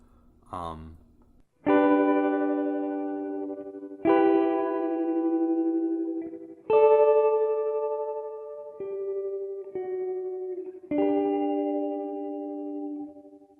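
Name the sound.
guitar tremolo reverb effect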